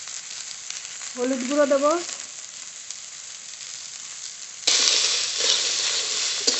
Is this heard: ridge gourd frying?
yes